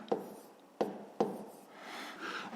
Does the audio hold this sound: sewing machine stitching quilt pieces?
no